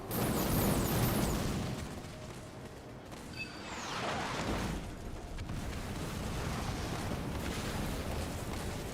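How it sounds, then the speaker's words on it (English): Grunt mines land and explode in a Halo Wars 2 match, a dense rumbling wash of blasts that is loudest at the start, followed by a swelling burst and continuous battle noise. "the grunt mines meanwhile are landing, and these Jackrabbits are getting beaten up pretty badly. Ooh, some pretty explosions there though"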